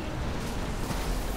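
Molten explosions in the video game Diablo III make a dense, loud, rumbling roar that fills the whole moment without a break.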